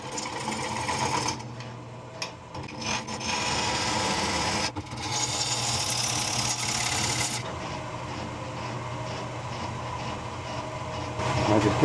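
A bowl gouge cuts a wet, spalted alder bowl on a woodturning lathe, making a steady whirring, rasping scrape that runs through the clip with small dips in loudness, while a faint voice is heard under it.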